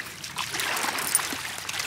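Water trickling and splashing near a lake at a camping spot with dogs, a close, continuous bright babble with small splatters throughout.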